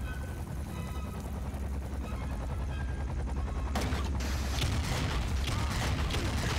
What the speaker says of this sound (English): Oh, that took three shots.